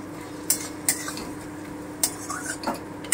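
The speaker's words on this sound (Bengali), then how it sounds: "2 চামচ আদা বাটা আছে, একটু ভেজে নেব হালকা করে।" Ginger paste fries lightly in a pan over fried onions for an egg curry, with a few sharp spoon clinks against the pan as it is stirred, close and otherwise quiet.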